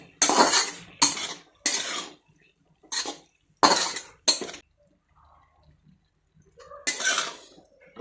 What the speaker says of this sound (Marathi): आता ही सर्व भाजी आपण मिक्स करून घेऊयात।